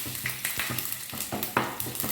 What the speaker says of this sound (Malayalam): കടുക് പൊട്ടുന്ന താമസം എടുക്കുന്നുള്ളൂ